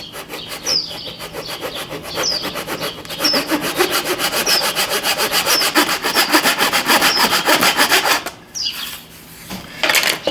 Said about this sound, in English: We just use the Japanese bandsaw here, and we'll cut this piece off.